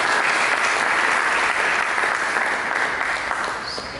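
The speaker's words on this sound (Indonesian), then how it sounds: "Berikanlah tepuk tangan bagi Yesus." Dense, steady applause from a church congregation giving praise to Jesus, filling the whole stretch and easing off slightly toward the end.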